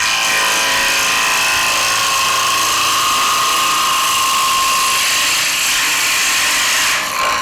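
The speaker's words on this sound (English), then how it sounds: "Okay, so bevel rubbing, come out." Woodturning gouge with its bevel rubbing on a spinning square-edge bowl on a lathe, giving a loud, steady, hissing cut with a whining tone held for about seven seconds before easing off at the end.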